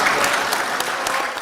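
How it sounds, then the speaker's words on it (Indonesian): Judges applaud warmly in a meeting hall, a dense, steady wash of many hands clapping together at close range, sustained without voices. "Tepuk tangan meriah menggema di ruang rapat sebagai bentuk apresiasi atas perhatian dan komitmen Prabowo terhadap profesi hakim."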